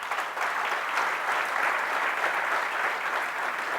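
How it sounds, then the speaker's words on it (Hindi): Sustained, loud applause from a seated audience at a residential workshop camp in Nathdwara, Rajasthan: a thick, even roar of many hands clapping together that continues steadily throughout, without speech. "एक बार जोरदार तालियों के साथ।"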